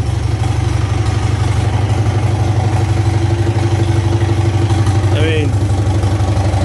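A Farmall tractor engine idles steadily and loudly up close, a constant low, even throb that runs the whole time while someone talks briefly over it.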